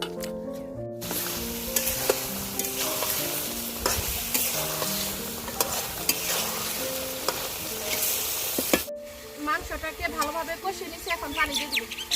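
Meat frying in a pan, a dense, steady sizzle close by with scraping stirs over it, then a short break and quieter spattering at the end, with a voice faintly underneath.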